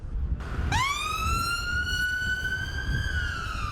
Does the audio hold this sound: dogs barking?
no